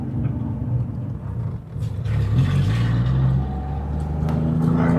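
Ford Fairlane 500 engine accelerating from inside the car, a close steady rumble whose pitch climbs and then levels off as the revs build, with a slight dip before the pull.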